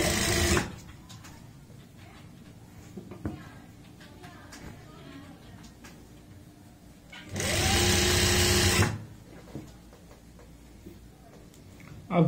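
An electric sewing machine stitches a half-inch seam on a palazzo made from one metre of fabric. It gives two loud, steady whirring runs, one at the start and one later, with quiet handling and talk in between.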